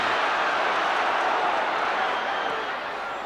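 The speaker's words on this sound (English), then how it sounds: "the crowd are roaring him on" A football stadium crowd at a 1973/74 QPR versus Newcastle match roars in a loud, sustained wash of cheering that swells and then eases slightly.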